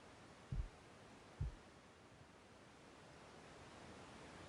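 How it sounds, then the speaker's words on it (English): Steady broadband white-noise hiss fills the quiet ambience of the horror video game God's Basement, with two brief low thumps early on and no talking. "White noise, the sound of silence."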